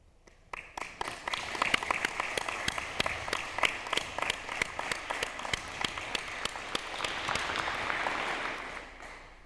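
Employers at a spring 2021 apprenticeship signing ceremony receive sustained audience applause, a dense crowd of many hands clapping steadily for about nine seconds before fading out at the end.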